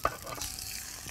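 Sausage sautéing in melted butter, a soft steady sizzle with a sharp tap at the start, faint and close with no talking.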